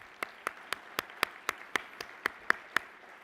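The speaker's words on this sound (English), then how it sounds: "Let's give all of our exhibitors a round of applause" Applause for the exhibitors at the 2018 Shingo Awards Gala in Orlando, Florida, heard as crisp, evenly spaced claps in a steady rhythm, about four per second, with a faint wash of room noise between them.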